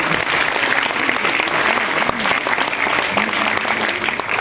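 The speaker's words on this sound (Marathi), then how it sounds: "केम्ब्रिज विद्यालयासाठी एकदा जोरदार तुम्ही टाळ्या वाजवा" Students applaud loudly and continuously at a Cambridge Vidyalaya school award function, a dense wash of clapping from a large crowd that holds steady from start to finish.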